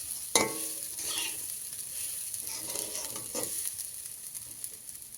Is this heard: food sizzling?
yes